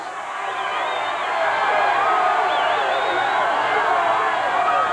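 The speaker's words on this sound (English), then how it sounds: "Crowd's having a great time." Celebrating crowd noise after a Bulls basketball win over the Portland Trail Blazers: a loud, steady mass of cheering and shouting voices with whistles and yells rising above it, building slightly and holding throughout.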